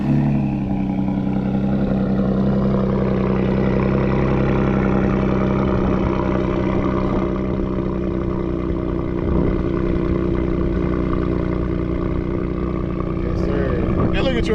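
A truck engine idles steadily after a cold start, a loud, continuous low rumble that stays close and even throughout, with no voices over it.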